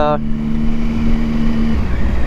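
A Triumph Speed Triple motorcycle engine runs with a steady, loud hum that briefly shifts pitch, heard close up over a short span.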